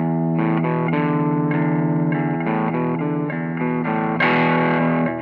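A heavily distorted electric guitar plays a low, chugging riff of repeated notes on the lowest string with the treble pickup, loud and steady, with a brighter accented chord near the end.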